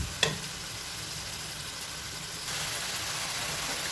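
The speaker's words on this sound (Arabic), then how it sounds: "نحطوا فيه زوز بصلات يعني مقصوصين مكعبات هكا. طبعا راح نقلي البصل تاعي مليح" Two diced onions fry in hot oil for an Algerian olive stew, making an even, close hiss that follows a brief knock at the start, with no talking.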